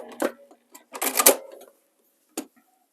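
A sewing machine quilts a cut-out-edge whole-cloth table runner in short, careful bursts of stitching separated by pauses, close and fairly loud.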